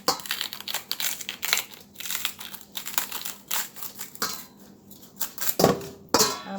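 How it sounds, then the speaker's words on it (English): A knife slices through the base of a bunch of pak choy, giving a few crisp crunching cuts over a busy background of clicks and rustles, then sharper snaps near the end. "So I'm gonna cut off the bottom first, just like this."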